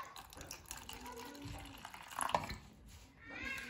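Water pours into a liquid soap dispenser, a brief splashing fill with a gurgling peak near the middle, fairly close and moderately loud, then trailing off.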